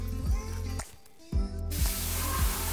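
Primer sprayed onto a room's walls with a spray gun ahead of filling and painting, heard as bursts of steady broadband hiss broken by short pauses, close and fairly loud, with no talking.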